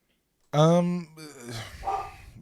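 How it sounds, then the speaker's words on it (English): Dogs barking nearby, a loud burst of barks followed by quieter yips and whines. "with the dogs going nuts"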